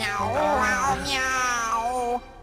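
A voice sings a melodic string of meows imitating a cat, rising and falling in pitch, loud and close, ending abruptly.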